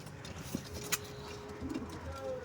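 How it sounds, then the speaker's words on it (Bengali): Pigeons, including black-necked and green varieties, give a few soft low coos against steady background noise, with a brief brighter chirp partway through. "ওখানে ভালো ভালো পায়রা হচ্ছে কালদমা পায়রা হচ্ছে সবুজ পায়রা উঠছে"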